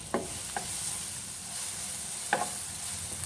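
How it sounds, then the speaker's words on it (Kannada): A small piece of capsicum frying in a pan, a constant bright hiss of hot oil with three short scraping knocks of a spoon as it is stirred. "ಒಂದು ಸಣ್ಣ ತುಂಡು ಕ್ಯಾಪ್ಸಿಕಮನ್ನು ಹಾಕ್ಕೊಳ್ತಾ ಇದ್ದೇನೆ. ಅದನ್ನು ಫ್ರೈ ಮಾಡ್ಕೊಳ್ಳಿ."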